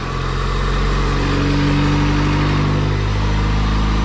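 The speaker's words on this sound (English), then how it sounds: "the engine sounds freaking amazing" A freshly swapped Honda B18C1 GSR engine in an all-wheel-drive Honda CRX idles steadily on its first start, a smooth, even hum held close and loud with no ticking or revving.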